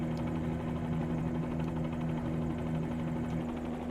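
Bell 47G helicopter engine in Microsoft Flight Simulator 2020, a steady, even drone with a strong low hum and continuous rotor buzz, loud and unbroken throughout with no talking.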